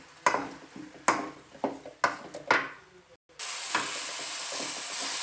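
Onions frying in a pan: five sharp clinks of a spoon against the pan, each fading quickly, then a brief silence before a loud, continuous sizzle bursts in and holds steady to the end. No talking.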